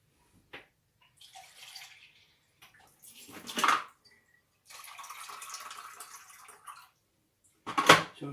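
Water poured into a mixing container for hay bread, about a litre and a half of barely warm water, arriving in several separate bursts of splashing and trickling with quiet pauses between, close and moderately loud.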